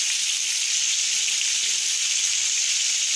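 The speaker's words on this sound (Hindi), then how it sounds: "हरी मिर्च भी ऐड कर देते हैं।" Green chilies hitting hot oil in a frying charsi karahi give a loud, steady, close-up sizzle that runs unbroken throughout with no talking.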